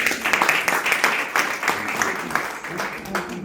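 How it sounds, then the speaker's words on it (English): An audience at a Malaysian mental-health event claps in a moderate, fairly close round of applause that holds steady for a few seconds, with voices talking underneath. "So please give a round of applause for Dr."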